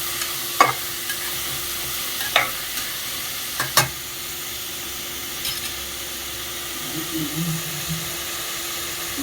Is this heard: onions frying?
yes